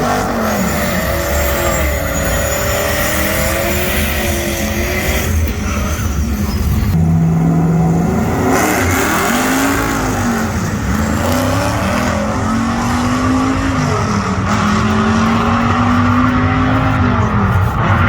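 A 1970 Dodge Charger with a 640 hp Mopar stroker engine accelerating hard with a loud, rising roar through several gear changes, tires squealing briefly, heard close and continuous without talk.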